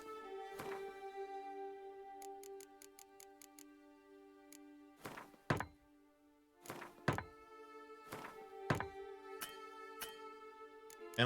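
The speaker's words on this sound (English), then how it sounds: "Then let's repair our weapons." Weapon repair in The Witcher 3: sharp metallic thunks and clicks, some single and some in quick bursts, spaced across a quiet background with a steady tonal hum.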